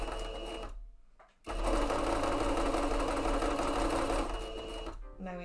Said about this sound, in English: Now we have a loud sewing machine and doors.